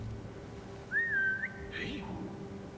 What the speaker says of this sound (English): Whistle him over, he'll come and then assassinate him